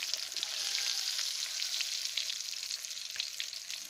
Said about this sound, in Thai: ใส่น้ำมัน ร้อนๆแล้วก็ ปลาลงทีหลัง ค่อยเอาปลาลง